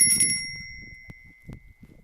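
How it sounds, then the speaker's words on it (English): A brunch time bell rings once with a bright, sustained metallic ding that slowly decays, followed by a few faint clicks and soft thumps. "That would be the brunch time bell."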